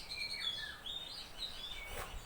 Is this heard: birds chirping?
yes